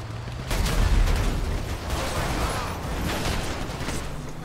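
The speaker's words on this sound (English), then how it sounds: "There's a lot of explosions happening!" Explosions boom in GTA 5 as a dense, sustained roar of blasts and rumbling chaos that swells after a quiet start and stays loud throughout.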